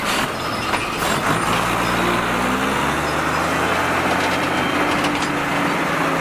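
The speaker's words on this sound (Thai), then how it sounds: "นี่เสียง6 BG เลยจริง" A running Isuzu 6BG1 diesel truck engine drones loudly and steadily, with a deep low rumble and rattling mechanical clatter, close up and continuous throughout.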